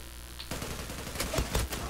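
Rapid gunfire in the online shooter game Zula, dense bursts of automatic shots crackling loudly after a brief quiet start, layered with overlapping impacts.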